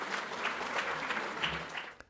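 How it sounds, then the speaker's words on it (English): A brief burst of audience applause at a national family and relationship services conference, dense crowd clapping that fills the moment and cuts off abruptly. "let's thank him and give him a round of applause"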